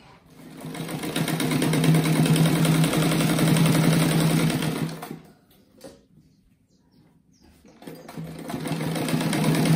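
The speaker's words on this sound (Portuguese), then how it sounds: "Agora eu vou passar uma costura aqui." A sewing machine runs a seam on a French-braid patchwork rug, whirring loud and close for about five seconds, then stopping for a quiet pause before the motor starts up again.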